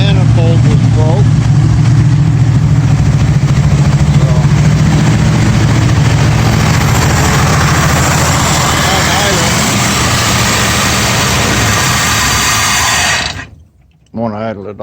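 A 1965 Ford Mustang with a 289 V8, four-speed and a cracked-through exhaust manifold runs loud and rough in a constant drone, then abruptly cuts out and dies near the end, close up.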